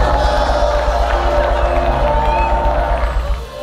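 A dense, steady roar of crowd cheering and whooping fills the hall at the Miss Charm 2023 beauty pageant, loud and continuous with a babble of voices before it eases slightly at the end.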